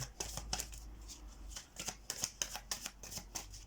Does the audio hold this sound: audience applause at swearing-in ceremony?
no